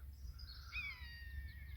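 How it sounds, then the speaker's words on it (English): A buzzard calls overhead at a field edge, one faint drawn-out mewing cry with a downward slide, over a low rumble of wind and distant background noise. "The buzzard."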